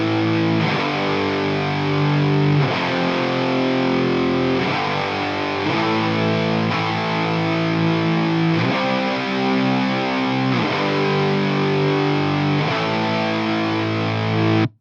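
Distorted electric guitar playing a chugging rhythm part through a Dist Coldfire amp sim into a blended four-speaker 4x12 cabinet IR, loud and sustained with repeated chord changes, heard alone without talk.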